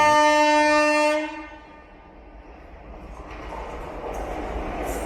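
A train horn blares loudly for over a second, then gives way to the steady rumble and rolling wheel noise of a train running past a station platform on the Surat to Mumbai line, with a faint high squeal near the end and no talking.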